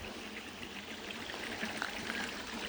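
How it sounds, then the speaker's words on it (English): Small waterfalls in a low-running creek splash and babble in a steady broadband rush, close by and continuous, with no voices over the water. "And we're coming across many different waterfalls."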